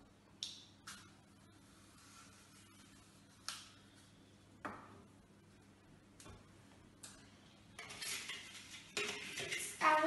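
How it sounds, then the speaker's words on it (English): A knife slices through an apple in sparse, sharp taps and clicks against a board, spaced a second or more apart over quiet, busier toward the end. "For the first experiment, we will need to cut two slices of the apple."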